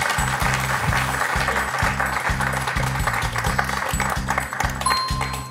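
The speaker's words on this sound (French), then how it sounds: "Et on peut applaudir Bertrand" Studio audience applause for a contestant on a French television quiz show, steady clapping mixed under a loud pulsing musical jingle with a rhythmic low beat that runs throughout.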